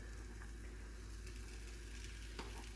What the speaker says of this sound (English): So I'm going to add some tomato paste